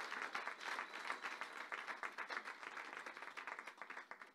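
A church congregation applauds steadily for its apostle at a worship service, dense clapping that holds at an even level throughout with no speech over it.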